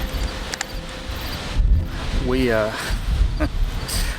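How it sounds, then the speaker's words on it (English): Gusty wind buffets the microphone with a steady low rumble and hiss, and a voice briefly sounds partway through. "it's gonna be really, really windy"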